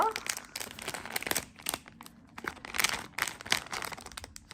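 Plastic wrapping crinkles and rustles as an advent calendar surprise package is torn open, a busy run of close crackling bursts.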